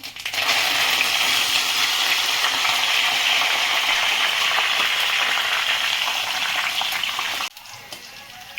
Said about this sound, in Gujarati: હવે આપણે આ ધાણા તળીશું